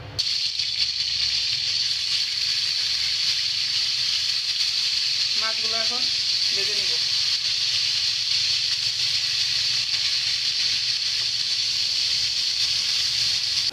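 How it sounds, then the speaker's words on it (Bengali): Turmeric-and-salt-rubbed tilapia fish fry in hot oil in a wok, producing a loud, even, continuous hiss of sizzling that runs throughout, with a brief burst of voice midway. "এখন মাছগুলো তেলে দিয়ে ভাজে নেব"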